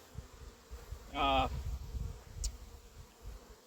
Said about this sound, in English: Come on, look out, bees.